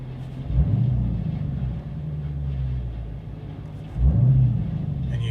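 A 2021 Dodge Challenger Scat Pack with a throttle controller fitted gives two short throttle blips, each lifting a deep rumble for a moment before it falls back to a steady idle.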